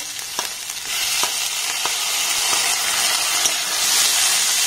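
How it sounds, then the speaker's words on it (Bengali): Whole cumin seeds, chopped onion and three green chillies frying in hot oil give a loud, steady sizzle throughout, punctuated by a few sharp utensil clicks. "তেলটাকে গরম করে নিয়েছি, এবার এর মধ্যে দিয়ে দেবো গোটা জিরে, দিয়ে দেবো কুচিয়ে রাখা একটা পেঁয়াজ, দিয়ে দেবো 3টে কাঁচা লঙ্কা"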